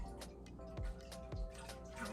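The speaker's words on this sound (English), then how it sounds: "I'm gonna pour with my strong hand. I'm gonna pour it over the pot." Liquid is poured over a pot while making homemade cream cheese, giving a soft continuous trickle with a few heavier splashing pulses, close and fairly quiet.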